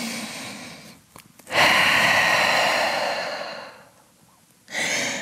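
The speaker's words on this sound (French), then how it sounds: "Et grande respiration en chien tête en bas." Deep breaths drawn in downward dog during a gentle vinyasa yoga session, two long loud exhalations, the first sustained for over two seconds and the second starting near the end, with a brief sniff before.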